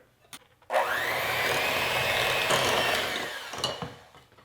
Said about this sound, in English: And then with the mixer here, we are going to cream these together.